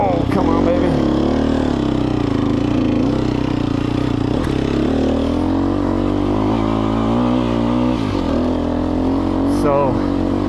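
A 2020 Sherco 300 SEF Factory dirt bike engine runs loud and close at a steady, throbbing idle with small throttle changes, while a person talks over it.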